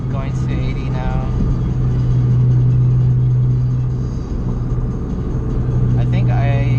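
A car fitted with a new MFactory 4.928 final drive pulls up toward 80 mph in fifth gear, heard from the cabin as a loud, steady engine drone with a strong low hum and road rumble.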